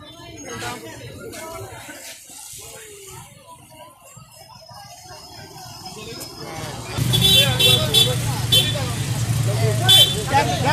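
Congested street traffic outside the DPRD building in Ambon during a demonstration against removing Premium fuel: idling engines and passing vehicles with scattered horn toots, growing louder and busier midway, under a steady murmur of talking voices.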